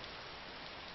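Steady, dense rain pouring down in the video game DayZ Standalone, a continuous even hiss with no pauses and no voices.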